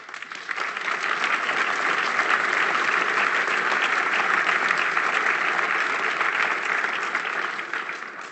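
An audience at a health-care event breaks into applause, a dense, steady wash of clapping that swells in, holds at full strength and then tapers slightly near the end, with no talk over it.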